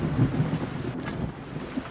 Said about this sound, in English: And it's raining and storming.